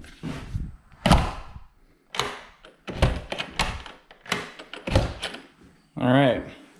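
A door lock set is fitted onto a door during a house renovation, with sharp clicks and thunks of metal hardware spaced through the clip while someone talks over the work.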